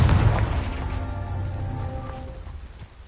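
A Confringo explosive spell goes off in Hogwarts Legacy, a single deep booming blast that rumbles and crackles as it fades away over a few seconds, with no voices over it.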